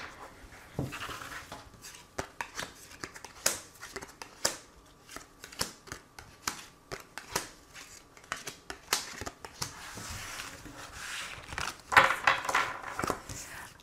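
Tarot cards shuffled and drawn by hand, close up. A dense run of soft papery riffles, slaps and taps comes in uneven bursts, with a brisker flurry near the end.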